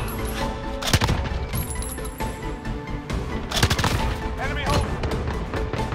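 Mounted LMG fire in Call of Duty: Modern Warfare, repeated loud automatic bursts with sharp impacts and crashes between them, close up, while someone talks over parts of it.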